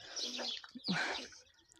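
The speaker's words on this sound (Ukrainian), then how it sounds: "О, кричать горобці." Bright, busy chirping of sparrows, two bursts with a short pause between, fairly close and lively.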